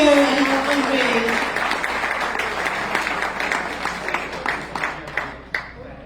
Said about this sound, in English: Let's applaud her for her contribution for our culture and our country.